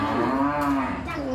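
A single cow gives one long, loud, close moo that holds steady for over a second, with nothing else heard around it.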